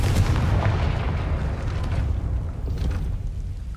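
A Confringo blasting spell explodes in Hogwarts Legacy, a deep rolling boom with a heavy low rumble that stays loud and fills the whole moment, with no voices over it.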